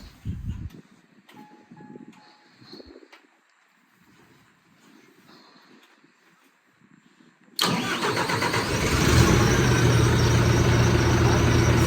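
Quiet shuffling and small clicks, then a Deutz-Fahr 5115 tractor's heavy diesel engine cranks and roars to life abruptly, settling into a loud, steady idle up close.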